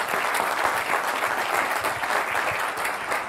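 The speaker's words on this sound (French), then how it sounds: "Est-ce que le public peut l'applaudir bien fort?" A crowd applauds Yannick Noah on his welcome at the Etoudi village arch, with dense, steady clapping that holds loud and even throughout and no voices above it.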